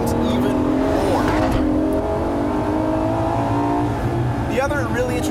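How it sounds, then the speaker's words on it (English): A 2014 Ferrari LaFerrari engine revs with sharp, immediate throttle blips, a steady loud drone from inside the car broken by quick rises in pitch, under a voice talking. "Like right there, just that instantaneous throttle response"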